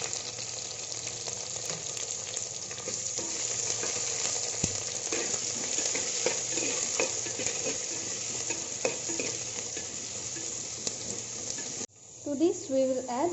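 Chopped onions fry in a pan with cardamom and cloves, a dense steady sizzle close by that cuts off abruptly near the end, followed by brief clatter.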